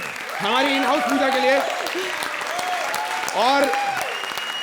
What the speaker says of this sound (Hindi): लेकिन अर्चना जी, जोरदार तालियां पहले